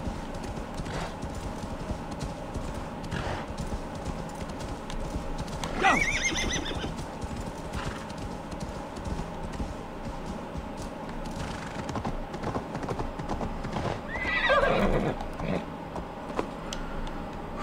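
Steady hoofbeats clip-clop throughout as a horse moves along in the game Assassin's Creed Valhalla, with two clear whinnies rising above them partway through.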